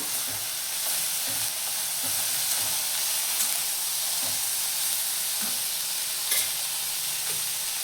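Green chillies with garlic and coriander fry and get stirred in hot oil for a rustic thecha, giving a steady, even sizzle with soft stirring scrapes, close and moderately quiet, with no talking.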